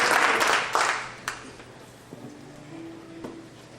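A church congregation claps its hands in a brief burst of applause that quickly dies away, leaving a faint room hum and a few scattered claps.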